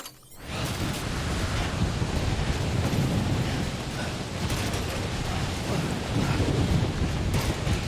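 Timefall storm in the Death Stranding video game, a steady loud wash of rain, wind and rumbling noise that swells in after a brief quiet start and continues without talk.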